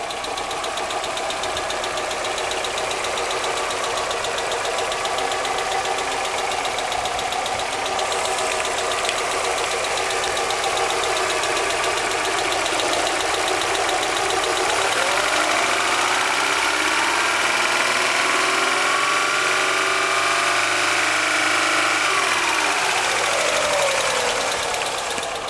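A 1996 Alfa Romeo Spider engine idles steadily and close by with a constant mid-range hum, a light knocking rhythm running through it and a slight shift in tone partway through.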